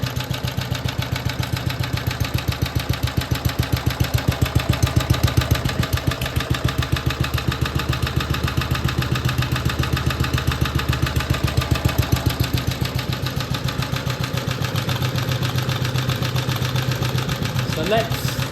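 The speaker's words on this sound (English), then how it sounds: "You can hear that lovely little breather sound" A BSA Villiers 119cc Sloper single-cylinder two-stroke engine, freshly serviced, idles close by with a steady, rapid pulsing beat and a soft breathy note. A heavy flywheel keeps the rhythm even throughout.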